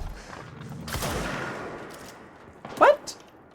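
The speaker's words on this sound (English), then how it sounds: "What is shooting me?" Gunfire aimed at the player in the game Control: a loud burst of shots followed by scattered sharper cracks later on, amid a tense, echoing background.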